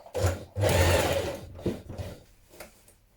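A sewing machine stitches around a coat sleeve in short close bursts, a whirring run followed by briefer stops and restarts.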